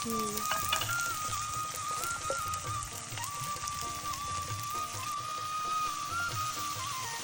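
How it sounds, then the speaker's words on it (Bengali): Fish curry sizzling and frying in mustard oil on a clay stove, a steady, close crackle of hot oil with light stirring, running evenly throughout with a faint voice in the background. "সরিষার তেল দিয়ে রান্না হচ্ছে"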